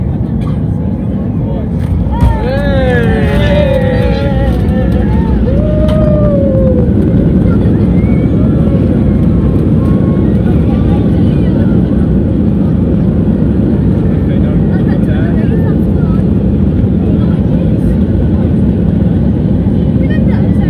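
A loud, steady roar of an airliner cabin during landing at Tenerife South airport, a broad constant rumble with faint whines rising briefly early on.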